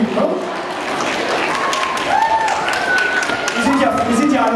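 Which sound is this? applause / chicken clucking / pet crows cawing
applause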